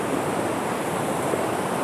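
A mountain river rushing past in a hilly village setting, a loud, steady, continuous roar of flowing water with no talk over it.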